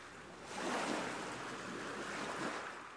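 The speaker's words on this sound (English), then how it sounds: "Yes, that's the sea." Sea waves wash in a steady, swelling roar of surf that builds after a quieter start and holds evenly, heard on its own without talk.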